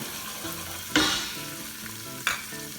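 Onion paste for a basil béchamel sauce sizzles steadily in a pan, close by, broken by two sharp utensil knocks against the metal, with no talking.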